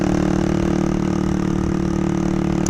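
A motorcycle engine running at a steady pace, a loud, even drone that stays close and constant with no talk over it.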